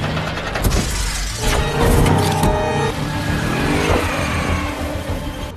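A car is snagged by a wire cable and skids to a halt in a film action scene, loud engine noise mixed with shattering and scraping crashes over several seconds.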